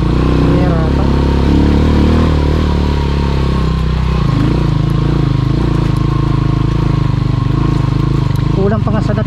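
An ordinary motorcycle climbing a steep mountain road near Sapang Uwak, Porac, Pampanga: a loud, close, continuous engine drone whose pitch dips and changes as the rider shifts and works up the slope, with some clatter and no clear speech.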